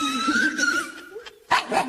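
A puppy barks and yips in short, close, loud bursts, with a brief pause between them.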